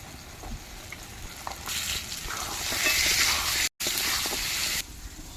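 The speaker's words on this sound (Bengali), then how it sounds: "এবার খোলা ছাড়নের কাঁঠালের আটিগুলো মশলার সাথে ভালোভাবে কষিয়ে নেব" Jackfruit seeds stir-fried with spice paste in oil in a pan, giving a steady close sizzle with scraping stir strokes that swells midway, cuts out briefly, then continues quieter.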